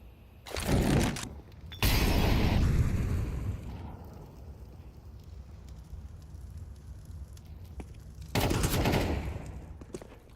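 Gunfire in a competitive FaZe versus Heroic video game match: loud crackling bursts near the start and again toward the end, separated by quieter stretches of lingering noise, with no speech.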